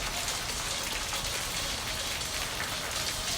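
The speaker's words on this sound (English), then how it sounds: "Sounds like hail out there." Heavy rain or hail falls outside in a steady, dense hiss of drops hitting surfaces, faint and continuous with no voices over it.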